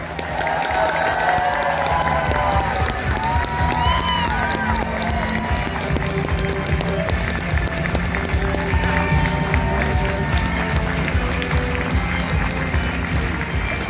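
Convention crowd at a Star Trek DS9 panel cheering, clapping and whooping as guests Terry Farrell and Nana Visitor walk out, a dense, steady roar of applause with shouts and scattered voices lasting throughout.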